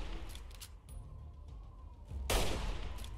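Rifle fire in Fallout 3: one loud, sharp shot with a short rumbling tail near the end of the clip, plus fainter distant cracks earlier, with no talking.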